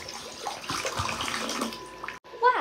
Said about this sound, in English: Oh, I spilled my water.